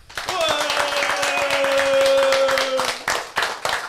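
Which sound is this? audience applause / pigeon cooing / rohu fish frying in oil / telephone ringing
audience applause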